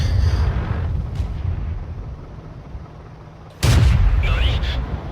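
In World of Tanks, a tank shell bounces off enemy armor with a sudden loud, close boom and ringing crack that cuts through a steady low engine rumble, followed by a fading metallic whine.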